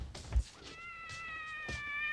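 An abandoned kitten meows in a few thin, high cries, the last one drawn out, with a couple of dull thumps nearby and no talking.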